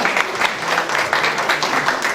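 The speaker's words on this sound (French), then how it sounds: "Bravo, on l'applaudit très très fort." Steady, loud applause from an audience cheering a medal recipient at a ceremony, dense continuous clapping with crowd noise filling the whole stretch and no clear speech.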